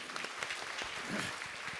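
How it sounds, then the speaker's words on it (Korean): An audience applauds at the close of a city development forum in Namyangju, South Korea, with steady, dense clapping filling the room throughout. The sound is moderately loud and no one speaks over it. "토론을 이끌어 주신 좌장님 그리고 또 토론자님 또 발제자분들께 다시 한번 큰 박수 부탁드립니다"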